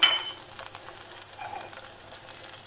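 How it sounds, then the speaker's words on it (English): Corn, capsicum, spring onion and broccoli sizzle softly in a pan over low heat, a faint, steady hiss of frying that runs throughout, with a slightly louder burst at the start. "This is going to be cooking over low heat while we're making our noodles."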